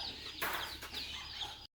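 Chickens on a family farm clucking close by in short bursts, with small bird sounds over continuous background noise; no one speaks.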